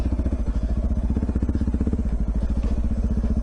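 KTM dual sport motorcycle ridden off-road, its engine close and loud with a rapid, steady pulsing exhaust note, chugging along without voices.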